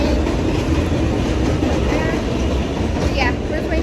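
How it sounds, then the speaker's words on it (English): Rumbling New York J subway train noise fills the space, a steady mechanical roar with faint squeals and muffled voices in the background. "we're just waiting for the J train to come"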